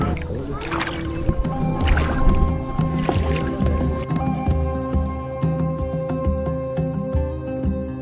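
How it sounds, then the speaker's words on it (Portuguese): A kayak comes in on the water near a riverside campsite, with close wet sloshing, splashing and dripping paddle sounds in uneven bursts over steady background noise. "Chegada do caiaque."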